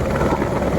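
A six-passenger helicopter with one pilot, flying near Yamunotri in the Himalayas, gives a steady, close rotor and engine drone through the brief moment, with no talk over it.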